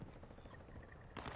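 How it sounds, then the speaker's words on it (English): Gunfire in the Call of Duty Warzone 2.0 video game, a faint spatter of shots through a busy mix, with a sharper, louder burst near the end. "Oh, I'm being shot."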